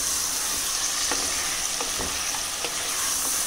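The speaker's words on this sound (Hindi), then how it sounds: "2 मिनट भून लेंगे।" Continuous oily sizzling of garlic-ginger paste frying in oil with chicken, with occasional light stirring clicks, close and steady, no one talking.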